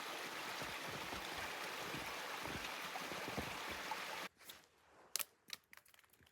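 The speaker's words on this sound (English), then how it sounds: "pretty little waterfall." A small waterfall beside a forest trail in winter gives a steady rushing hiss for about four seconds, then cuts away to quiet with a few faint clicks and rustles.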